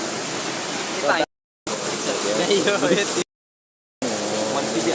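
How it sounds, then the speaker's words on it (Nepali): A river flows close by, giving a steady broadband rush of water under a person talking, with two brief silent breaks. "खोला चाहिँ त्यही हो, यहाँबाट आवाज आइरहेको"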